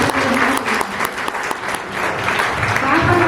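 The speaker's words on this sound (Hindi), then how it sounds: "सब जोर से ताली भी बजाइए।" Audience applause at a retirement day ceremony at SSM College, a dense burst of clapping from a crowd, loud and close, with a voice speaking briefly over it.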